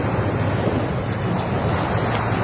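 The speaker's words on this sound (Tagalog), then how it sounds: "Dito kami ngayon sa dagat." Sea waves wash onto a beach in a continuous broad rush, mixed with wind buffeting the microphone, steady and without distinct breaks.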